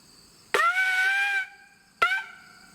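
A forester's hunting horn from the East Kingdom Foresters Guild blows one long, steady note of about a second, a brief pause, then one short blast, loud and close with no talk.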